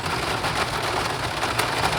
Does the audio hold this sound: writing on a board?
no